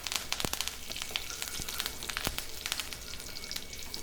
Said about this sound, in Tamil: கருவேப்பிலையில் இருக்கிற அந்த ஈரத்தன்மை போகிற அளவுக்கு நல்லா முருவலாக பொரிய விட்டுருங்க.